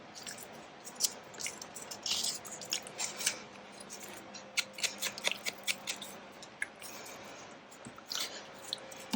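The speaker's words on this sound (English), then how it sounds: "just cut that off, but be careful not to cut through your fold" Scissors cutting through folded fabric, a series of close, crisp snips and soft crunching cuts in an otherwise quiet room, irregularly spaced.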